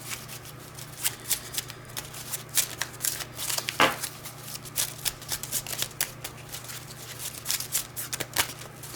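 Old tarot cards are shuffled by hand, giving a run of crisp riffling flicks and soft papery slaps at an uneven rhythm, close and fairly quiet, with no talk over them.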